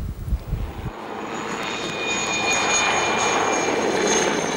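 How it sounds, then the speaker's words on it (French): A low-flying crop-spraying airplane passes over vineyards, a steady loud engine drone that swells and holds close overhead after a brief rumbling start, with no voices. "Le survol à basse altitude et l'épandage des produits peut surprendre plus d'un passant."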